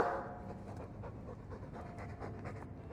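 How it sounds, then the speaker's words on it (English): A Mabari war dog in the Dragon Age 2 video game pants in quick rhythmic breaths, close and fairly loud, continuing steadily with no speech over it. "I'm sick of what's-his-name staring and panting."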